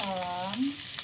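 Bay leaves going into a pan of frying red chili and curly chili sambal, a steady close sizzle with a brief stirring swell, no voices.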